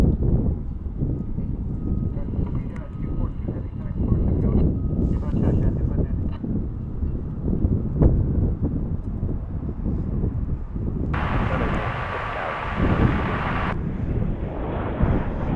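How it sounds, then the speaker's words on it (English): Asiana Airlines Boeing 747-400 departing DFW airport, its engines a broad sustained roar over wind noise, with a brief brighter hiss near the end. "There it goes off to Seattle. Asiana Airlines 242, 747, 400."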